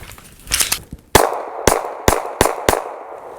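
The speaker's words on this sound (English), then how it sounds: "Yeah, first 5 shots, locked back." A Nomad Defense Nomad9 pistol fires five sharp, loud shots at an uneven pace, roughly half a second apart, after a brief burst of faint clatter.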